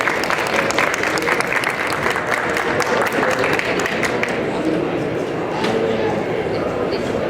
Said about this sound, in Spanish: Un fuerte aplauso para recibirla